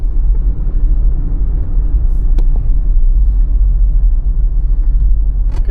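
A car rolls along rural back roads near State College, Pennsylvania, a steady low tire and engine rumble heard from inside the cabin, with a couple of brief clicks.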